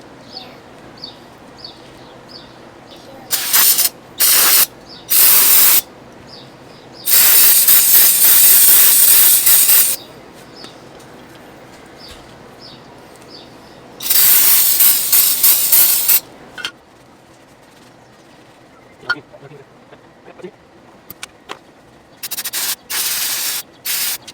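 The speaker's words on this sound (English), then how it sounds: "now we just gotta clean all the grease off." Grease being cleaned off a wheel bearing during a cleaning and repacking job, heard as several loud bursts of hissing spray and rubbing, some brief and some lasting a few seconds, with quieter handling noise in between.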